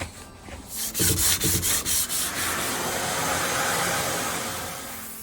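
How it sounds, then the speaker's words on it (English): A primed wooden sliding hatch on a narrowboat gets a light hand sanding: rhythmic rasping back-and-forth strokes, then a steady continuous scrubbing hiss, loud and close with no talk. "It's just a case of giving it a light sand after the primer that I put on it"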